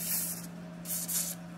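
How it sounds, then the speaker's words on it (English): Lubricant sprayed onto the cable pivot points of a Craftsman 13.5/27 lawn mower: two close, hissing aerosol bursts, the first short and the second longer, over a steady low hum. "So spray the pivot points here."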